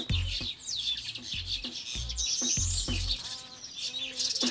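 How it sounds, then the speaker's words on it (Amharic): Many kinds of birds sing around Benuna village, with repeated quick chirps and tweets near and far over a quiet outdoor background and low thumping sounds. "ጸጥ ያለ ነው። ከዛ ወፎች ይዘምራሉ።"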